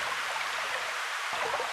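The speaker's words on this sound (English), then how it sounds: "Next, I'm going to put in this stream sound." Stream water sound effect playing in a music production program, a steady bright rushing and trickling wash of flowing water with no voices.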